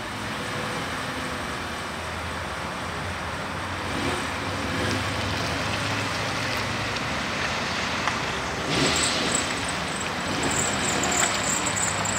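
A 2007 Hyundai Accent on the move, heard from inside as a steady low road and engine rumble with broadband tyre and wind noise, fairly quiet and even throughout with no talking.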